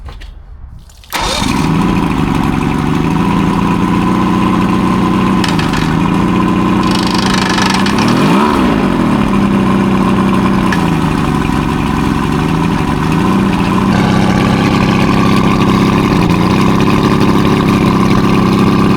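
An outboard engine on a 1969 Thunderbird tri-hull boat catches after a brief silence and then runs steadily and loudly up close. Its pitch shifts slightly as it revs.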